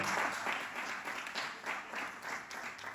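A church congregation applauds to acclaim the Lord, a dense, continuous wash of many hands clapping together that swells and dips slightly over three seconds.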